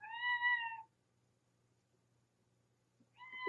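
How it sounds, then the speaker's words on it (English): A recorded pet cat meows twice as a text message tone, with one clear drawn-out meow and then a second starting after a pause. The meows are close and clean against near silence. "I recorded her meowing,"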